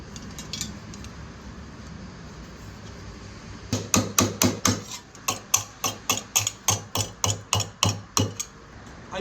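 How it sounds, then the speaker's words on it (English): Handmade sheet metal cowbell struck repeatedly, about fifteen bright clanking hits in a steady rhythm after a few seconds of quiet handling, close and fairly loud. "it looks like a cowbell, it sounds like a cowbell. I reckon this is a cowbell."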